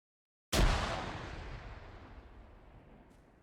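A frag grenade goes off in a military shooter game with a single sudden boom out of silence, then a long rumbling decay that fades over about three seconds.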